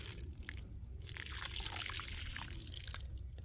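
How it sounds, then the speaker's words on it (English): Water poured from a container into a compost bed of kitchen scraps in a 4x8 raised garden bed, a steady close splashing pour lasting a few seconds with no talk. "I'm just going to pour this water in here"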